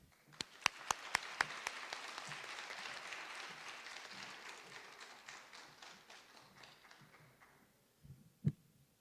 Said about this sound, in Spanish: pido recibamos con un fuerte aplauso al rector de UNITEC